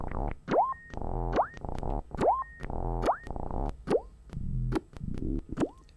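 A Moog DFAM synthesizer plays a looping sequence of short, punchy percussive hits with pitched, boingy blips and quick decays, repeating in a steady groove with no voices.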